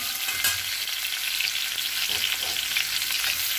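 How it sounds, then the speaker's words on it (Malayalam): Ginger, garlic and carrot stir-frying in a pan for Kerala-style vegetable noodles, a steady close sizzle with occasional scraping stirs, no talking. "ഇഞ്ചിയും വെളുത്തുള്ളിയും ചതച്ച് ഇട്ട് കൊടുത്തു ഒന്ന് ഇളക്കുക"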